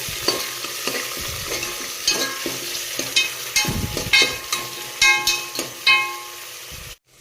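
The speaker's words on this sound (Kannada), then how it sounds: "ಎಣ್ಣೆಗೆ ಕರಿಬೇವು ಸೊಪ್ಪು, ಕಸೂರಿ ಮೆಥಿ ಮತ್ತು ಆನಿಯನ್ ಹಾಕಿ ಫ್ರೈ ಮಾಡ್ತಾಯಿದ್ದೀವಿ." Onions, curry leaves, kasuri methi and dried peas fry in oil while a spoon stirs them, giving a busy sizzle punctuated by repeated sharp scraping strokes before it cuts off abruptly at the end.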